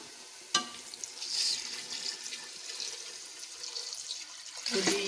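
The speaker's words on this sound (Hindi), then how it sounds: "अब इसमें हम पानी ऐड करेंगे।" Water is poured into a cooking pot of fried mutton and dalia. Soft splashing and hissing swells near the start and again at the end over a low, steady simmer.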